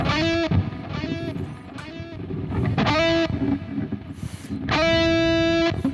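Electric guitar with high-gain distortion through a Soldano amp and 4x12 cabinet plays a few sustained, bending notes separated by short gaps, loud and gritty with sharp pick attacks.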